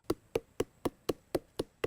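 Repeated pounding on the flower stalk of a coconut tree to make tuba sap flow, eight sharp, evenly spaced knocks in quick succession, close and alone.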